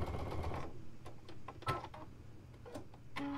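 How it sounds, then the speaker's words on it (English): A sewing machine stitches rows of a quilt block together, giving an irregular, close mechanical whir and ticking with short bursts and pauses. "this is sewing the top row to the middle row"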